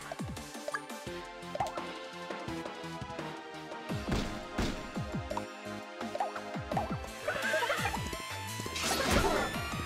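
A horse neighs several times in the video game Miitopia, the whinnies rising over game music and clip-clop hoofbeats, with louder neighs toward the end.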